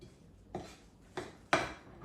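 Banana bread batter being mixed in a bowl, with a few distinct clunks and scrapes of a utensil against the bowl, spaced out and fairly quiet.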